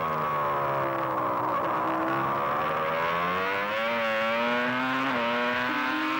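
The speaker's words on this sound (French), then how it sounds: "on écoute là le moteur de Jacques Villeneuve" A high-pitched 1996 Formula One car engine at the French Grand Prix screams steadily, its pitch sliding and shifting as it changes gears, loud and continuous with no talking.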